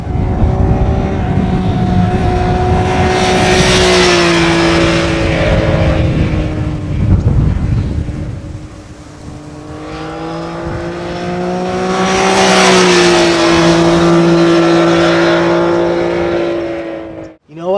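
A 2013 Triumph Street Triple R motorcycle engine roars loudly and close, rising through two long revving pulls with pitch climbing then settling, wind and road rush heavy throughout, voices faintly present underneath.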